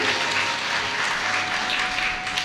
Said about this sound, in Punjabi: ਜ਼ੋਰਦਾਰ ਤਾੜੀਆਂ ਤੁਹਾਡੇ ਸਾਰਿਆਂ ਦੇ ਵਾਸਤੇ